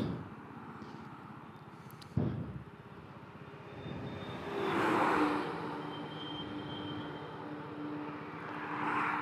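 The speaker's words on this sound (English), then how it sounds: "oh no, there's another vehicle coming" Another vehicle approaches and passes on a road near a stationary Honda Vision scooter, a broad engine and tire rush that swells to a peak midway and fades again, after a sharp thump early on.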